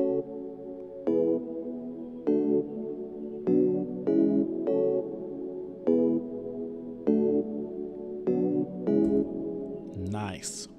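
An Alchemy synth layered with a piano in Logic Pro for an Afrobeats beat plays chords with crisp struck attacks in a steady, evenly spaced rhythm, ending in a brief burst of voice.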